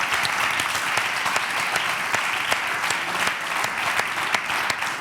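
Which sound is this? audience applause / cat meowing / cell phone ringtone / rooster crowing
audience applause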